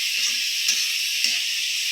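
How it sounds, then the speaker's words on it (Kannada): Broad beans and lentils frying in a tempering: a steady, bright sizzle and hiss throughout, with soft stirring scrapes breaking through at intervals, close and even. "ಈಗ ಇದನ್ನು ಫ್ರೈ ಮಾಡ್ಕೋಬೇಕು"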